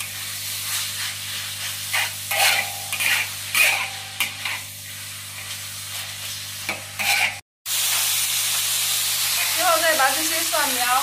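Soybean sprouts are stir-fried with dark soy sauce in a wok: rhythmic scraping stirs over a bright sizzle, a brief cut to silence, then a steady hissing fry.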